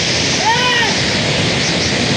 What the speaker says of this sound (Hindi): पुतुड़ी वाटरफॉल